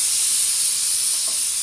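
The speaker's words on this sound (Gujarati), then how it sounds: "મસ્ત કુકરની સીટી વાગી" A pressure cooker whistle, steaming over khichdi with potato, hisses steadily and loudly with no pause, a sharp high jet of steam close by.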